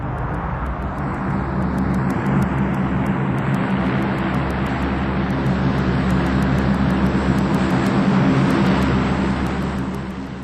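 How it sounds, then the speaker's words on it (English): A Hercules transport aircraft makes a tactical landing and brakes with reverse thrust, giving a loud, sustained broadband roar of propellers and engines. The roar holds steady for several seconds and then eases slightly at the end. "A tactical landing. The bulk of a Hercules brought to a halt in about 750 meters"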